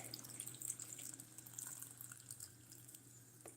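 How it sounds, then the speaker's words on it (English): Pineapple juice pours in a faint, steady liquid trickle with a soft splashing hiss throughout, close by but quiet, with no talking. "let's get this juice poured in here"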